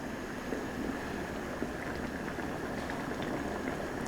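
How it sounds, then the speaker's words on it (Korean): Curry sauce made with curry powder bubbling and boiling in a pot, a soft, steady simmering fizz with scattered small pops, quiet and continuous without talk. "카레가루가 충분히 풀어질 수 있게끔 보글보글 전체가 다 끓었다면 불을 꺼주시면 됩니다."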